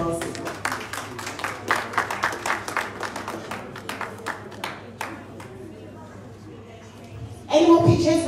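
Applause from an audience at a town hall fundraiser meeting in Manchester, a busy scatter of claps through the first half fading out, with voices and chatter underneath and a louder burst of noise at the end.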